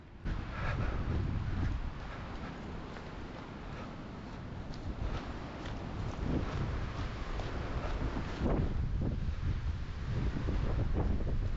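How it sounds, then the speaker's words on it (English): Strong gusting wind buffets the microphone while trees thrash nearby during an outdoor run, a continuous roaring rumble that rises and falls in waves with no speech. "it is windy. I'm kind of sheltered right at the moment, but those trees are blowing like crazy."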